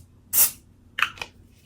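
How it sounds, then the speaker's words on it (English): A hair product spray from an aerosol can gives one sharp, hissing burst up close, followed a beat later by two shorter, softer spritzes, with quiet room tone between them. "It's a good spray."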